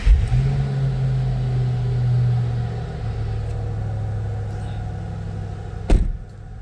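A 2007 Ford Mustang Shelby GT with a 4.6 liter V8 and five-speed manual idles steadily up close, a deep low rumble with a brief rise early on and a sharp knock near the end.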